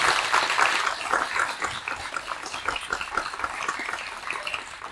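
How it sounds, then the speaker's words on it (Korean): An audience applauds at a press union's leadership launch ceremony, a dense, sustained crowd clapping that fills the hall at steady strength throughout with no voice over it. "여러분 박수 한번 부탁드리겠습니다"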